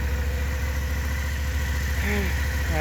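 A Suzuki V-Strom 650 motorcycle engine idles nearby with a steady, even low rumble and regular firing pulses, continuous throughout, with a brief faint tonal chirp near the end.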